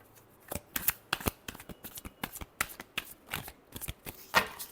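Tarot cards being shuffled by hand in a quick run of crisp riffling bursts and soft slaps, close and fairly loud, with no talking.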